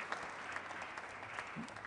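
Faint, steady applause from a summit audience fills the space, an even patter of many hands heard from a distance with no clear voices on top.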